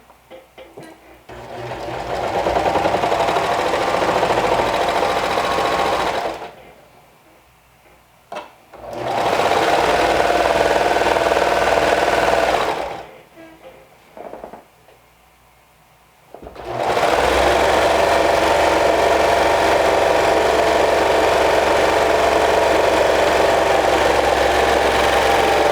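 A sewing machine stitches the bottom hem of a garment in three long runs at a steady motor whir, with two brief pauses between bursts, loud and close with no talking.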